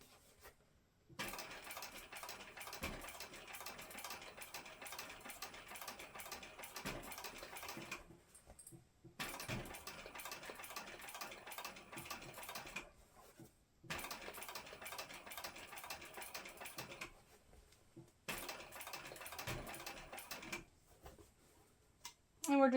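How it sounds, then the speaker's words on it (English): A sewing machine top-stitches across a fabric flap, exterior and lining in four long, steady runs of rapid mechanical whirring, with brief pauses between them, fairly quiet and close. "now we're going to top stitch across the back of our flap, our exterior, and our lining"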